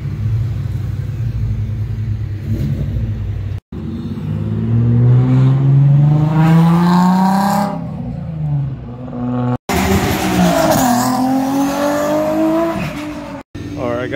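A Nissan 350Z HR with a rear-mount turbo, running about 12 pounds of boost, accelerates hard in repeated rising revs with brief gaps between gear shifts. The loud, close engine roar drowns out everything else.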